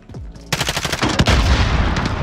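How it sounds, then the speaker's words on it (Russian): Rapid automatic gunfire in Call of Duty Warzone, a loud burst of shots that starts abruptly after a quiet half second and keeps rattling close by to the end. "Вот здесь вот кто-то был, стрелял."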